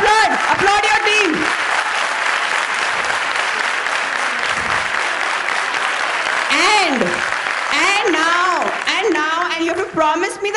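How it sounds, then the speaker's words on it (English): Audience members at an extempore event applaud a team with sustained, loud clapping while voices cheer and talk over it. "Come on, let's applaud the team from BIMHRD."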